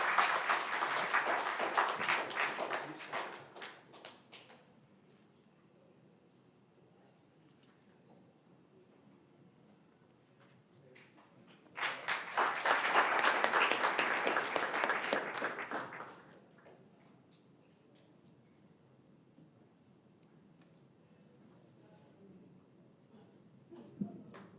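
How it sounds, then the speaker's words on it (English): Two separate bursts of audience applause during a lecture's flower presentation, each a few seconds of fairly loud crowd clapping, separated by a long quiet gap and followed by near silence. "I think an applause would be in order."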